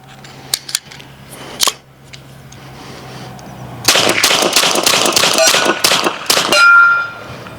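A BinTac T9 PCP air pistol charged to 4500 psi fires a full magazine: a few scattered shots and metallic clicks, then a rapid burst of sharp, loud, close cracks, ending in a longer hiss.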